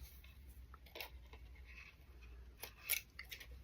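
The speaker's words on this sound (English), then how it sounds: "So let me cut this tag off" A few quick, sharp snips of scissors cutting a small clothing tag off a top, close and quiet, with faint handling noise between cuts.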